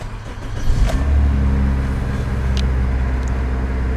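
A 2005 Toyota Corolla S turns over with the key, a brief crank catching at about one second and settling into a steady, close idle hum.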